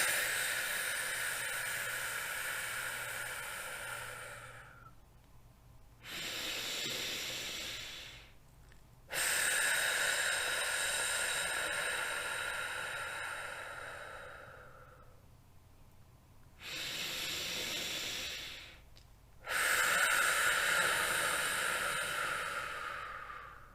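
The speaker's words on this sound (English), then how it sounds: "let's take a breath" Slow, deep breaths drawn in and let out in a calm, quiet setting, with several long inhale and exhale cycles separated by short pauses.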